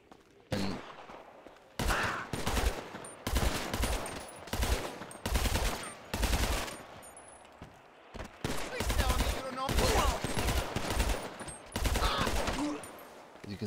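Bursts of automatic gunfire in the Survival of the Fittest video game, several rapid volleys separated by short pauses, fairly loud and up close.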